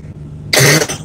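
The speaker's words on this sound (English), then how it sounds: "so it's like a dry cough right now." A single short, sharp dry cough from a person, close and loud, standing out after a moment of quiet.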